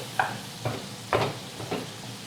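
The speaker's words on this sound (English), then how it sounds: "cutting up the ground beef with the spatula" Spatula chopping ground beef in a frying pan, four distinct scraping strikes at a steady rhythm over a low sizzle, close and moderately loud with no talking.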